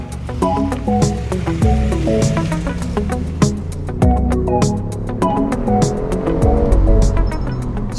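A BMW i8 Roadster drives with its roof open, steady engine and road noise broken by repeated sharp shifts and revs over several seconds, loud and close.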